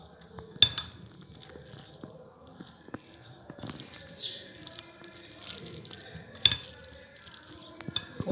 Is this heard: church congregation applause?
no